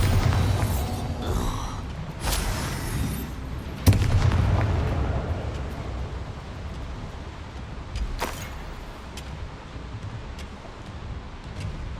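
A spell explosion booms in the Hogwarts Legacy video game, a loud blast followed by rumbling, crackling aftermath and a few further sharp hits fading out.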